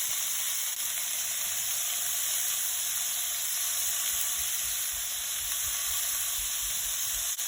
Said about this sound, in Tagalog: sutay natin hanggang mag-light brown ang kulay ng ating onion and garlic. Lagay na natin ang patatas.